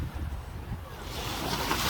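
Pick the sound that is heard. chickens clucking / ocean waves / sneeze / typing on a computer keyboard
ocean waves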